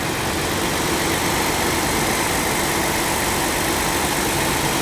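A V6 car engine idles steadily and continuously at close range, a dense low rumble with a constant hum and no speech over it.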